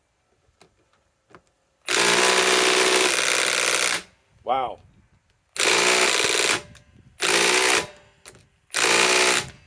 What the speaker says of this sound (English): Okay, Metabo HPT bolt triple hammer.